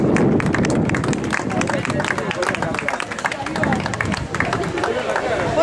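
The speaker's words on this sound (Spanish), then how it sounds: "Fuerte aplauso para Celina" Crowd applause at an award ceremony for the women's category third-place finisher of a mile road race in Cambados, steady dense clapping mixed with crowd babble throughout.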